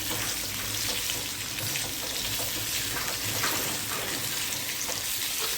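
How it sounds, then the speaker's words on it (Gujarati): Steady loud sizzling and crackling of gathiya being stir-fried in a hot pan with oil, salt, asafoetida and turmeric, a continuous close hiss with faint scraping from stirring. "હિંગ અને આવી રીતે મિક્સ કરી અને તળી લેવાના છે"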